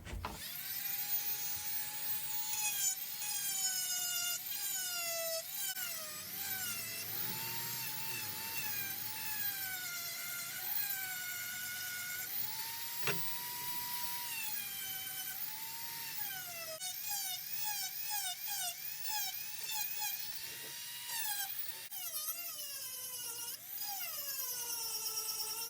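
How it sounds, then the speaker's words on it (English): A Dremel rotary tool carves wood on a trout replica, giving a high, thin motor whine that rises and falls in pitch as the bit bears into the wood, steady and close throughout. "I'm gonna go ahead with the Dremel and take some more meat off it, atomize some more wood."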